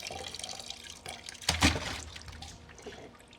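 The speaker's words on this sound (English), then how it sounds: "One big flush." A toilet gives one big flush, a close surge of rushing water that swells sharply midway and then drains away into a fading gurgle.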